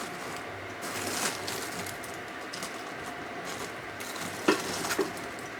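Thanksgiving bread stuffing with parsley is stirred slowly in a pan, with soft scraping and gentle sizzle plus a couple of sharper utensil knocks near the end.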